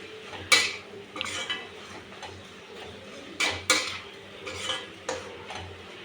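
A spoon stirs tomatoes with rock salt and cashews in a pan for paneer butter masala, making several distinct scraping clinks at irregular intervals over a faint sizzle, with no talking.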